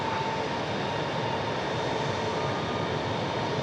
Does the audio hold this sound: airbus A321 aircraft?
yes